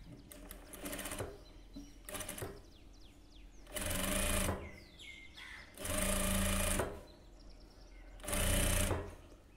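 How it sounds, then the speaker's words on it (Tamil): A sewing machine stitches lace onto a blouse back neck in three short, separate bursts of fast mechanical whirring, close and clear, with quiet handling noises between runs. "உள்பக்கம் இந்த ஓரத்தில் வச்சு தையல் போடுங்க, அந்த நெட்டில் ஓரத்தில் வச்சு தையல் போடுங்க"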